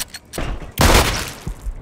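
Gunfire in a multiplayer video game: a few quick shots, then a loud, dense burst of blasts that trails off, with a couple of thumps after it.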